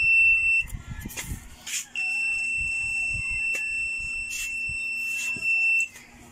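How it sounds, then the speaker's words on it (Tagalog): A high electronic buzzer on a rechargeable styrofoam cutter sounds in long sustained stretches, stopping and restarting, with scattered clatter and rustling nearby. "May buzzer pa siya."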